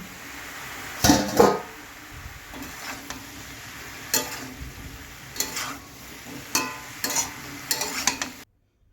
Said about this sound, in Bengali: তো সবজিটাকে বেশ ভালো করে নেড়ে ঢাকা দিয়ে দেবো